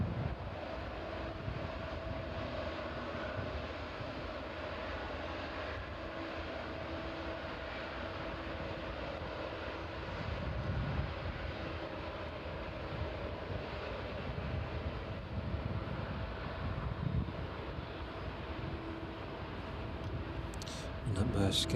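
A Maersk Boeing 767 cargo jet landing at East Midlands Airport gives a distant, steady engine roar that swells gently and lingers under intermittent talk.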